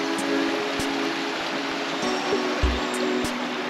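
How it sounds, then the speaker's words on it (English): A small waterfall on a green Tasmanian creek sends a steady broadband rush of falling water, close and continuous, with faint taps and a low thump near the end. "So there's a small waterfall there."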